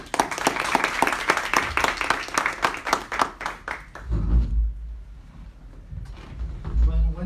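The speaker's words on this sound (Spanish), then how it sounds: "pido por favor un aplauso para el doctor Alejandro Córdoba" An audience at a conference on the legal framework of psychotherapy and psychoanalysis gives a speaker a loud, lively round of rapid clapping. It fades after about four seconds into low rumbles and handling noise.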